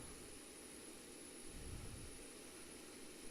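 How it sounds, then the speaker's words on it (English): In the X-Plane 12 flight simulator, the auxiliary power unit exhaust of a Boeing 737-800 gives a steady, faint jet-like roar and hiss, unchanging throughout with a slight low swell midway, and no one speaking. "that's the APU exhaust"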